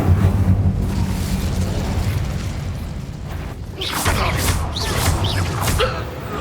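A fiery Incendio spell blast erupts in Hogwarts Legacy, a loud sustained booming roar with low rumble throughout and brighter whooshing flares toward the end.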